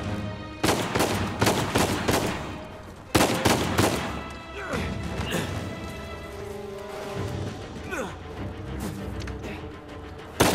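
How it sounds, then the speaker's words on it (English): Blind fire from a character shooting out from behind cover in the video game Uncharted 4, dense bursts of rapid gunfire in two loud volleys, then quieter game sounds. "Oh, blind fire."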